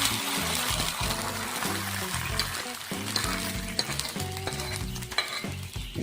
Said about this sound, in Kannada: ಬಿಸಿ ಬಿಸಿ ಸಾರಿಗೆ ಒಗ್ಗರಣೆ ಹಾಕಬೇಕು ಅಂತ